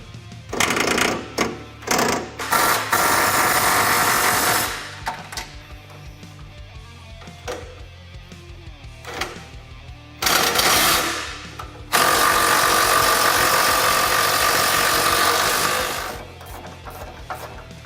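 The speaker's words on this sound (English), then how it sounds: "we're just going to go ahead and go through and fully tighten all of our bolts for our radius arms" An impact or power tool tightens radius arm bolts on a Polaris RZR Pro XP, with loud mechanical whirring bursts in repeated runs, a long sustained run near the end, and quieter workshop handling between them.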